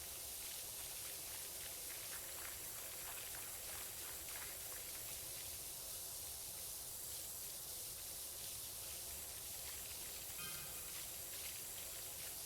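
A pressure washer nozzle sprays continuously in a cleaning video game, a steady broad hiss that holds at an even level throughout with no talking.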